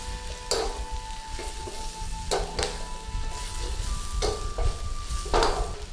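Beef and mushrooms stir-frying in a pan, a steady close sizzle with spatula scrapes and clinks against the metal every second or so, no talk.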